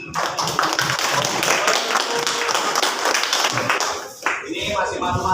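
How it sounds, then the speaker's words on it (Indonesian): Students in a classroom clap for a presenting group, a full and fairly close burst of applause that thins out before someone begins speaking near the end. "Ya, tepuk tangan"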